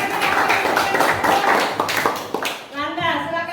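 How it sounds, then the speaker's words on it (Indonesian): Classroom group clapping for a student named Aprilia during a civics lesson at an Indonesian school, a burst of close, dense hand claps with a voice speaking over it that ends in a short tonal sound. "Iya, tepuk tangan untuk Aprilia."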